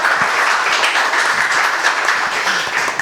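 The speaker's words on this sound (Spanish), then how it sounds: "un aplauso, por favor" Audience applause at an academic colloquium on contemporary Peruvian thought, a sustained even patter of many people clapping in a hall for a few seconds.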